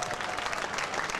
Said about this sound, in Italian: Un applauso ancora a Riccardo e a tutto il gruppo, grazie.